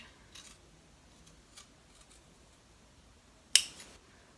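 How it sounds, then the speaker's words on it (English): Scissors cut the fabric of a lined, in-the-hoop embroidered zipper bag. A single crisp, close snip stands out against quiet room tone, with a few faint ticks of handling before it. "I'm gonna cut this side at an angle too, just up to those stitches."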